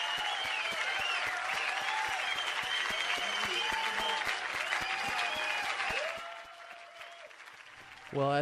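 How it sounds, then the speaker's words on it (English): A studio audience claps for Sting in a dense, sustained burst of applause that thins out toward the end, with a voice starting up as it fades. "as the audience claps for Sting"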